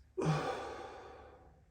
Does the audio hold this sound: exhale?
yes